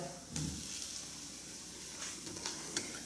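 Cubed portobello mushrooms hitting a hot pan, a soft hiss and sizzle with a few sharp ticks and crackles, fairly quiet and close.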